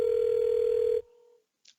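An outgoing call rings in Microsoft Teams as a steady electronic ringback tone, held for about a second before cutting off abruptly, followed by a brief faint blip; no one speaks.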